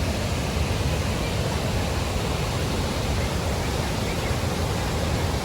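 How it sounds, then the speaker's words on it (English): The Owen Moore River rushes past the old mills at Collooney in a steady, loud, broadband roar of flowing water that holds unchanged throughout with no breaks. "you can hear the Owen Moore River behind us today, and it's a very impressive river"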